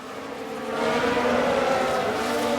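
A Ferrari Formula 1 race car engine roars steadily in the F1 Manager 22 racing game, a loud continuous whine that swells slightly as the car spins out.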